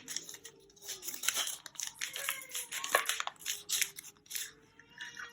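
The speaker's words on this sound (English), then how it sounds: "I'm just going to cut the packaging at the top because it's much easier, and I have the scissors for that." Scissors snipping through plastic makeup packaging, a series of close, sharp cuts mixed with crinkling and tearing of the wrapper, in irregular bursts.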